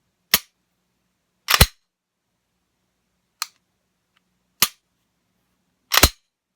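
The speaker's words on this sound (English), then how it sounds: "Let's see if we can get that striker to fall again." A Timberwolf Glock-style pistol with a frame problem gives five sharp, isolated clicks of the trigger and falling striker, spaced about a second or more apart in otherwise quiet surroundings, with some clicks doubled.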